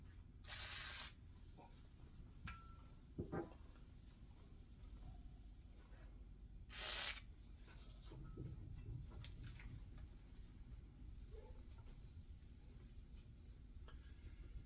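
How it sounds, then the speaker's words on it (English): WD-40 lubricant sprays in two short, sharp hissing bursts onto a Rep Fitness Athena PR-4000 rack during assembly, with quiet metallic handling sounds between. "just WD-40"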